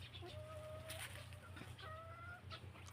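Chickens clucking softly nearby, several short calls and drawn-out clucks over a low background hum.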